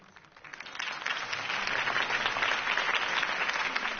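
Crowd applause in the game Injustice 2 swells quickly and holds steady, dense clapping filling the space with a bright, sustained roar.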